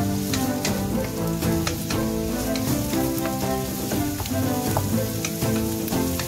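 Garlic frying in oil for fried rice, a dense steady sizzle with crackling pops and occasional stirring scrapes, close and constant throughout.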